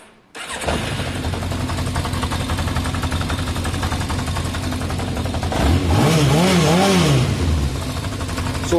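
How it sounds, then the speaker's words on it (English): Yamaha XJ600 Diversion motorcycle engine with clutch rattle, starting up and idling close by with a steady mechanical clatter, then a couple of revs rising and falling near the end. "It's always got a touch of that clutch rattle, listen."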